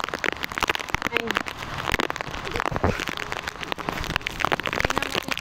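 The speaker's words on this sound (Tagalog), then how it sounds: "Kasi malakas yung ulan." Heavy rain pours down steadily among trees in the aftermath of a typhoon, a dense continuous hiss of drops on surfaces, with a person talking intermittently over it.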